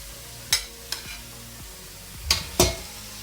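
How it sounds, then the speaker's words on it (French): Pork knuckles dropped into a pan with peppers and onions, giving a low steady sizzle broken by a few sharp clattering bursts of stirring and movement, close and fairly loud with no voices. "On remet les jambonneaux dans la casserole avec les poivrons et les oignons."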